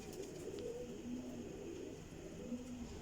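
Pigeons softly cooing at a loft, low repeated coos faint against steady background hiss.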